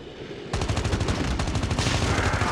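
Rapid automatic gunfire in the mobile shooter Call of Duty Mobile, a sustained burst of sharp repeated shots starting abruptly after a quiet moment, loud and close.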